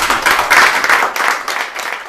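An audience applauds Francis Mouton at a fifth-anniversary celebration, a loud, close, continuous wash of many clapping hands with slight surges throughout.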